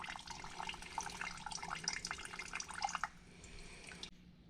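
Fuel pouring and dripping from an opened drain plug on a 1999 Suzuki Quad Runner 500 ATV with a vacuum-actuated fuel system, a steady close trickle with spattering drips that thins out and stops near the end.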